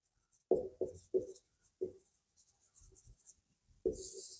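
Writing on a board during a Class 10 science lesson on light and refractive index: a handful of short, sharp strokes and taps in a quiet room, with faint murmurs between them.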